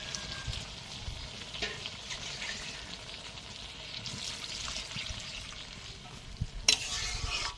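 Pieces of meat for kosha mangsho being stirred and fried in a pot at an outdoor family picnic. A steady soft sizzle runs under repeated scraping stirs, with a brief louder clatter near the end and no talking.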